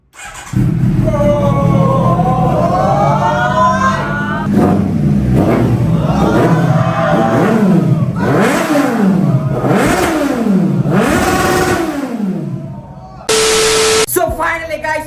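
A Kawasaki Z900 with an aftermarket exhaust revs hard several times in a row, the pitch climbing and dropping with each loud, close blip of the throttle.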